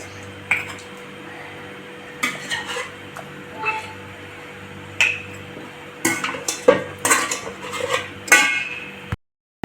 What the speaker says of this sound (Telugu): ఇప్పుడు అన్నీ ఒకసారి ఇలా కలిపెట్టేస్తే మసాలా అన్నిటికీ ఈక్వల్గా పడుతుంది